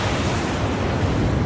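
A bombing explosion strikes a tunnel during a military mission in the video game Battlefield Bad Company 2, a loud, continuous low rumbling roar filling the whole moment with no pause.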